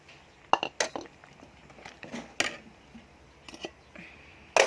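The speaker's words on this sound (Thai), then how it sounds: "เดี๋ยวเราใส่ ถั่วล้างแล้วนะคะ ใส่ถั่วลงไปเลยค่ะ" Utensils knock and clink against a pot as washed beans go into a sour curry, with several sharp metallic hits separated by quieter gaps and one louder clatter at the end.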